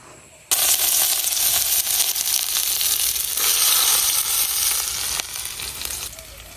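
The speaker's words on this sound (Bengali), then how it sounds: "কয়েকটা রসুন কুচি বাজে নিলাম" Chopped garlic dropped into hot chilli-fried oil bursts into a loud, close, crackling sizzle that holds steady for several seconds, with a few scrapes of stirring, then eases slightly toward the end.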